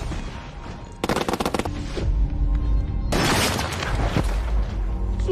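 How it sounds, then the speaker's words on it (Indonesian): Gunfire exchanged from hidden positions in an action film scene: a rapid burst of shots, a pause, then a longer, louder volley with booming impacts, no voices. "Kedua pihak saling melepaskan tembakan tidak berarah karena posisi keduanya yang tersembunyi"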